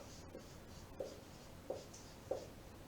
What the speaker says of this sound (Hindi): फिर वाक्य लिख रहा हूं